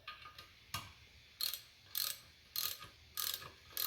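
Mechanical ratcheting clicks as bolts are snugged down on the pony motor of a John Deere 830 Industrial tractor, arriving in short, close bursts separated by brief pauses.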